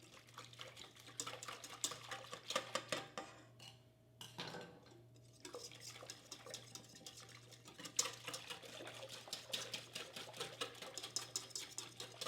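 Bread dough ingredients being mixed together in a bowl with a tablespoon, giving quiet, rapid scraping and clicking strokes in a busy irregular rhythm with a short pause near the middle, all close and soft.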